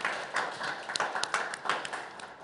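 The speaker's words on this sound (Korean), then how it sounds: "이 세 분 박수 한 번만." A small audience at a talk concert gives three guests a brief, fairly quiet round of scattered individual claps.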